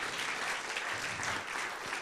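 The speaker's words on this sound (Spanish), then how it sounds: "Démosle un fuerte aplauso, Señor." Church congregation clapping in steady, dense applause, loud and continuous throughout with no pauses, sustained as a broad wash of hand claps.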